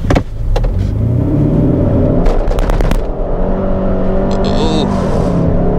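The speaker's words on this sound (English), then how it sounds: "And from this stop sign, I'm just going to floor it." A 2022 Hyundai Sonata N Line in sport mode pulling away from a stop sign at full throttle, its engine note loud and close inside the cabin, with a few sharp clicks and a voice speaking over it.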